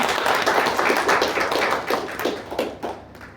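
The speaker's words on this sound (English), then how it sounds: "Let's give a big round of applause to the speakers." Audience applause for the speakers after a lecture on environment and climate change, a dense, close wash of many hands clapping at a steady level before tapering off near the end.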